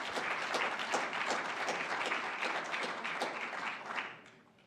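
An audience at a school district governing board meeting applauds award recipients with steady, fairly faint clapping that fades out toward the end.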